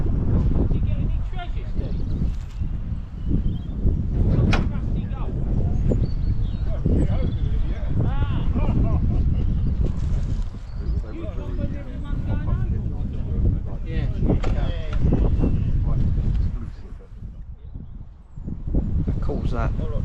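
Gusty wind buffets the microphone outdoors at a breezy autojumble swapmeet, a loud low rumble that swells and dips throughout, with people talking over it.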